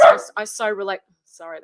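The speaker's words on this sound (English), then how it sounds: "that's my dog" A dog barks loudly and close at the start, a short burst that overlaps a person speaking, with talk continuing afterward.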